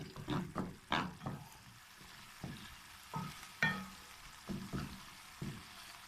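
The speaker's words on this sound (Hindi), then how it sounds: "टमाटर गल गए हैं, इसको थोड़ा सा भून लेते हैं" Tomato chutney frying and being stirred in a pan over raised heat, a spoon scraping in repeated short strokes over a soft sizzle, close and moderately loud with no talking.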